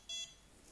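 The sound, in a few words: BetaFPV LiteRadio 3 remote control beeping during calibration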